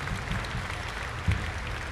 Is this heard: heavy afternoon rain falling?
no